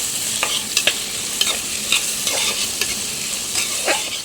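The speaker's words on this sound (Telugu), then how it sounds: "ఇప్పుడు సన్నగా కట్ చేసుకున్న ఉలిపి ముక్కలు వేసుకుందాం మిక్స్ చేసుకుని మూత పెట్టి మగ్గించుకుందాం" Thinly sliced onions sizzle in hot oil with curry leaves as a spatula stirs them through the pan, making a steady frying hiss punctuated by regular scraping strokes, close and clear, with no voices.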